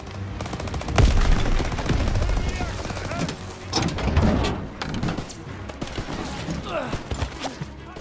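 A half-track mounted machine gun fires in rapid, continuous bursts in Call of Duty WW2, close and loud. Other battle noise and voices blend in underneath the gunfire.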